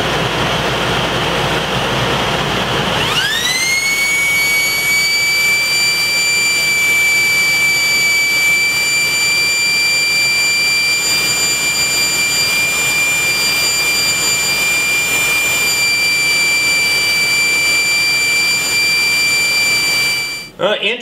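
A woodshop dust collector runs loud and steady, starting up a few seconds in with a rising whine that settles into a constant high-pitched hum over a broad rushing airflow roar until it cuts off at the end.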